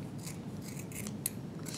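Scissors trimming a model tree for tabletop terrain, several quick, faint snips close by in a soft irregular rhythm over a quiet background.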